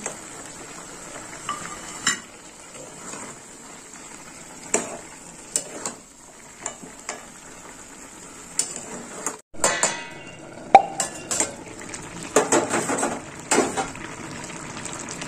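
Fried vegetables and fried bori are tipped into a pan of spinach curry, with scattered clanks and scrapes of a spoon against the pan over a soft, steady sizzle.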